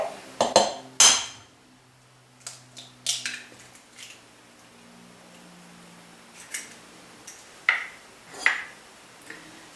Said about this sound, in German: Als nächstes schlagen wir ein Ei in die Schüssel.